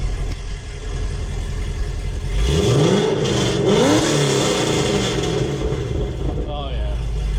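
A car engine is started and then revved, with a low rumble swelling into rising and falling revs before settling. It is loud and close, with talk over it.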